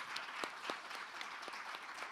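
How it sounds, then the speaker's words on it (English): Faint applause from a small crowd, a brief patter of clapping at a distance with a few sharper claps standing out. "I think she deserves another applause."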